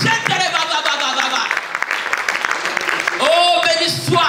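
A church congregation applauds and cheers during a French-language worship service, with dense clapping mixed with voices and sung or shouted exclamations, loud and close throughout the short burst.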